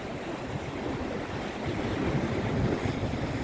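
Sea waves wash steadily onto Maremonte beach in Northern Cyprus, a soft continuous surf hiss mixed with wind buffeting the microphone, moderately faint and without talk.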